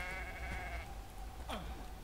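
A goat bleats once in the SkySaga: Infinite Isles video game, a short wavering in-game animal cry heard alone over a steady low background tone.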